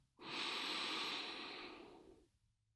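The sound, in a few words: inhaling through the nose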